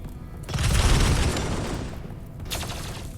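Gunfire volleys in RimWorld crack out as a dense burst of overlapping shots, loud and close, tailing off and then followed by a second shorter burst, with no talk.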